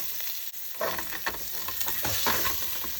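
Shallot hits hot fat in a stew pot where lamb was just seared, setting off a loud, steady sizzle with crackling bursts of stirring close to the microphone and no talking.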